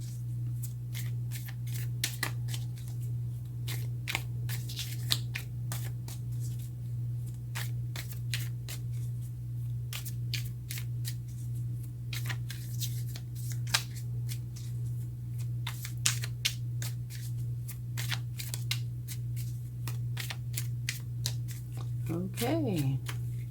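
Tarot cards being shuffled by hand, heard as a steady run of soft, crisp flicks and riffles close to the microphone over a constant low hum, with a brief vocal sound near the end.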